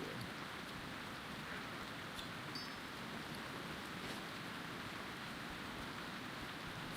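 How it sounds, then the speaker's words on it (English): Steady rain falls in the video game Turtle WoW, a soft, even hiss of drops on surfaces continuing unbroken at low level with faint scattered ticks and no talking. "I like it when it rains in the game"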